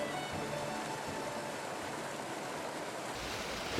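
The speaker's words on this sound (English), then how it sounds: "It's a mountain spring, natural spring coming from Asahidake, and it's just crystal clear." Clear mountain spring water from Asahidake snowmelt, flowing steadily with a constant broadband rush, near and moderately quiet, no voices.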